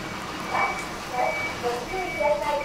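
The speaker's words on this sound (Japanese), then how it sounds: "ちょっと、ゴミ収集車が来ちゃったんで。" A garbage truck sounds its reversing alarm nearby in a small shopping arcade in Nara, repeating steady electronic beeps at a regular rhythm over background street noise, with people talking.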